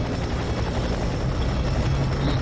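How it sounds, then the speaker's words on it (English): A helicopter in the F.E.A.R. 3 video game, during a co-op run through a suburban level, gives a loud, steady rotor roar throughout, close and constant with no talk. "Oh, chopper."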